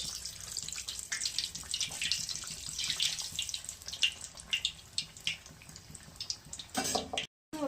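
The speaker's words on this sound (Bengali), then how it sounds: "তেল গরম হয়ে গেছে দিয়ে দিলাম সুন্দর ফুললো" Pitha, a sweet rice-flour cake, fries in hot oil, giving a dense, steady sizzle and crackle with popping bursts, close and continuous, cut briefly by a short break near the end.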